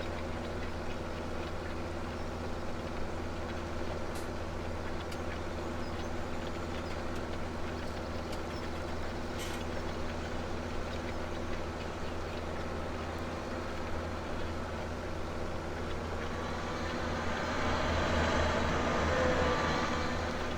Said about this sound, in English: That cat has some pretty cool engine sounds.